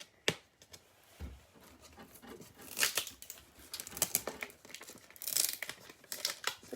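Packaging is crinkled and torn open by hand at close range, with irregular crackles, rips and rustles.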